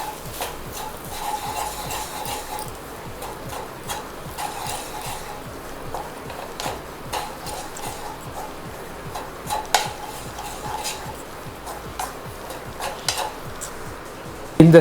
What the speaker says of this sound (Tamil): போட்டுட்டு இதை நல்லா நம்ம மிக்ஸ் பண்ணி விட்ருவோம்